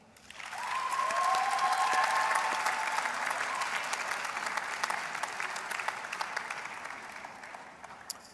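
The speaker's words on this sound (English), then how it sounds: "Now we would like the graduates to applaud their families, friends, and spouses for their support." A graduation ceremony audience at the Faculty of Theology breaks into sustained applause, a dense crowd clapping that builds within a second, holds steady for several seconds, then slowly thins out. Faint voices are heard under the applause.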